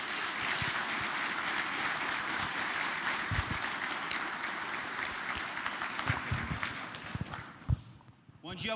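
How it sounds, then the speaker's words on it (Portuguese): Audience applause in a symposium hall greets a professor coming up to speak, a steady dense clatter of many hands that thins out and fades near the end. "peço que receba com uma salva de palmas"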